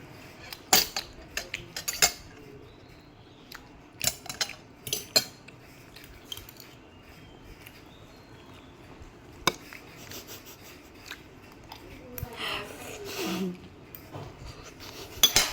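A spoon scrapes and clinks against dishes while scooping food, with scattered close taps and rubbing sounds and quieter gaps between them during a meal.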